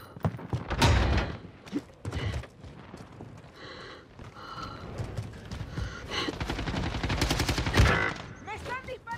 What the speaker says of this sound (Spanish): ¡Me están disparando por aquí!